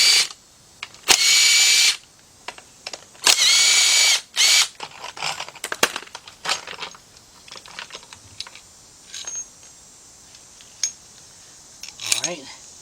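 Power tool spinning out four 10 mm throttle body bolts on a GM V6 during a timing chain job, heard as several short loud bursts of whirring, interspersed with clicks and rattles of handling.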